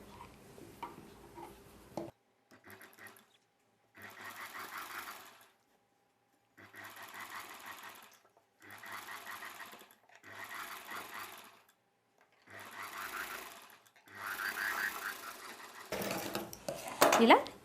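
A sewing machine stitches along the neck of a long gown in short bursts of rapid clattering separated by brief pauses, close and steady throughout, with light handling noises between runs.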